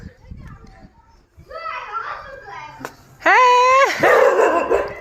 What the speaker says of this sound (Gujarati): આ કૂતરાએ તો ભારે કરી દે